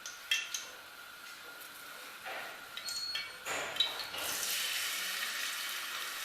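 Onions go into hot ghee for a dhaba-style mixed dal. A few quiet utensil clinks and taps come first, then a soft, steady sizzle rises and holds to the end.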